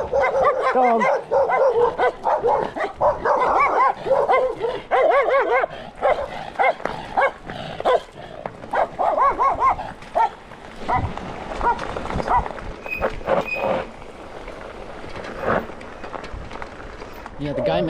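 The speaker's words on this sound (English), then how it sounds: "Uh-oh. Dog." A dog barks and yips in short bursts outdoors in a wooded park area, mixed with someone talking and footsteps, fairly close.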